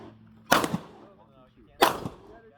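Handgun shots fired during a walking move-and-shoot drill at an intermediate handgun class, two sharp loud reports about a second and a half apart, close by.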